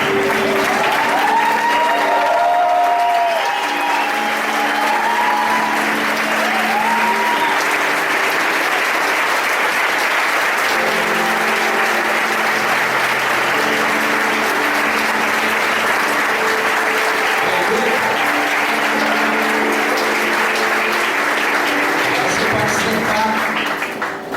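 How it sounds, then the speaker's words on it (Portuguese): A church congregation applauding during a New Year's Eve service, a long, loud, sustained roar of clapping with voices and cheering woven through, continuing unbroken before thinning slightly at the end. "você de pé, você aplauda o Senhor na vida desse amigo"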